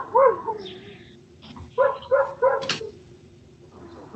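A dog barks in the background of a remote court arraignment: one sharp bark, then a quick cluster of three yips a moment later, fairly close and clear over a quiet room.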